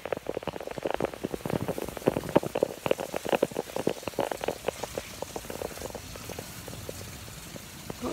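A garden sprinkler sprays water onto a grass lawn, giving a steady hissing patter with rapid irregular droplet ticks, close and continuous, alone without talk.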